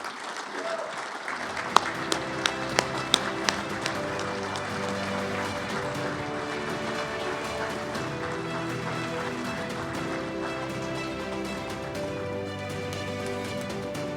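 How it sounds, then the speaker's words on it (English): An audience applauds to welcome an inductee to the St. Louis Sports Hall of Fame, a broad wash of clapping that swells after a quiet start, with music playing underneath throughout. "Let's welcome him with our applause"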